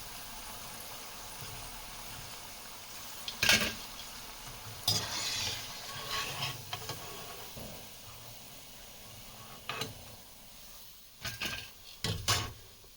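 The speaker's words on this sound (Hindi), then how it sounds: "अब ये पकोड़े स्लो स्लो फ्राई हो चुके हैं" Sindhi pakoras fry slowly in hot oil: a steady, quiet sizzle and hiss runs throughout, broken by several brief scrapes and clinks as the pieces are stirred and turned in the pan.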